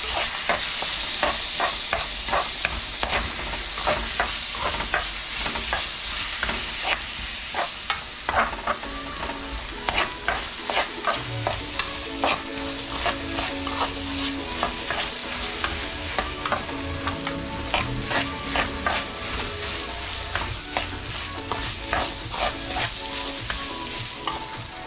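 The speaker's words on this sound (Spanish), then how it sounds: "Y lo freímos un poquito el arroz." Washed rice fries and sizzles in a pot for a Ecuadorian lentil moro, a steady close crackle broken by frequent sharp scrapes and clinks of a utensil stirring against the pot.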